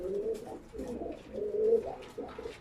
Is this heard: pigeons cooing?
yes